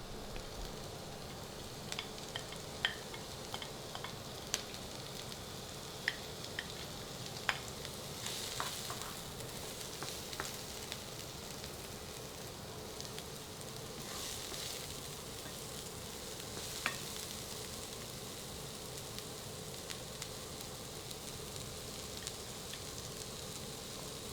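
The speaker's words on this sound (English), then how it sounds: "So starting off with the onions." A soft, steady sizzle of onions frying in a pan, with occasional light clicks of stirring, quiet and continuous.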